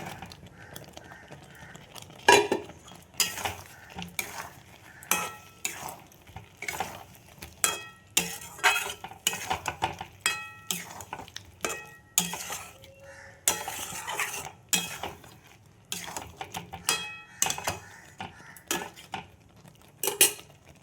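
Fried cauliflower florets for a cauliflower rezala are tipped into a pan and stirred, making repeated loud metal scrapes and clinks of a spoon against the pan over a light sizzle, with no voices.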